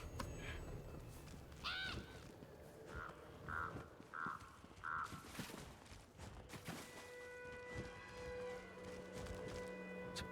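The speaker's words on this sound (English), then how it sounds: "It's a purple crow." A purple crow in a video game gives a short series of harsh caws, about four rapid calls in a row with an earlier squawk, over busy game ambience, footsteps and rustling, fairly close and moderately loud.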